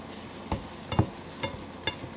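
Breakfast frying in a pan is stirred and pushed around, with a handful of soft scraping strokes about half a second apart over a faint, steady sizzle, close by and quiet.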